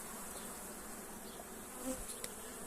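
Honey bees buzz around an open hive during an inspection, a steady faint drone of many wings with the odd louder individual passing close.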